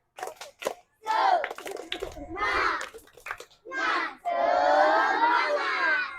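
Schoolchildren in a fifth-grade class perform a 'tepuk semangat' spirit clap chant, bursts of loud shouted chanting in unison, broken by short gaps and ending in a long, sustained group shout.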